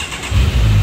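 A green and black Kawasaki motorcycle fitted with an Akrapovic exhaust starts up, its deep, loud engine rumble rising abruptly partway through and holding steady at close range.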